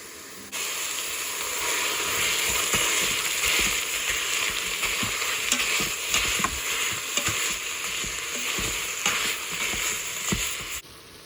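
Meat browning in a soup pot gives a continuous crackling sizzle with scattered scrapes and pops of stirring, steady and moderately loud throughout, ending abruptly.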